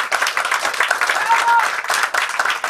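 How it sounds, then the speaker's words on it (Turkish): An audience applauds after a one-man theatre show by Haydar Zorlu, a dense burst of clapping that stays even and fairly near for a few seconds. "alkış aldı."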